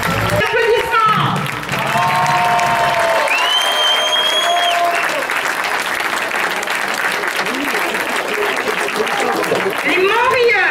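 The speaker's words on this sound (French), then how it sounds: "Applaudissements." Crowd applause at a medieval festival's closing presentation, sustained clapping with scattered cheers and whistles, loud and continuous, with talking and a voice over it near the start and music-like tones mixed in.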